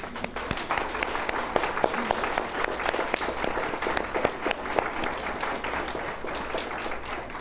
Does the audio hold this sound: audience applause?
yes